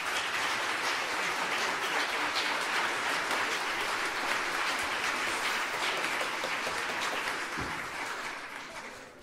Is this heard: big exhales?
no